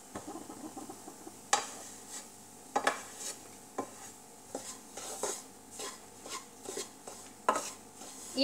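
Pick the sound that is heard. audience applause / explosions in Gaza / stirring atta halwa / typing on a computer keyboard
stirring atta halwa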